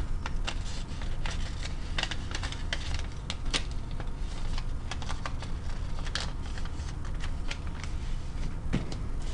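Origami paper model being flipped and recreased, with close crisp crinkles, taps and rustles in an irregular steady run and no talk.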